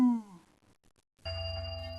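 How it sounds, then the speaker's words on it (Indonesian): A small bell above a restaurant door gives a single bright ding that rings out and decays, followed after a short pause by a louder, steady sustained tone. "Suara lonceng kecil di atasnya berbunyi. Ting!"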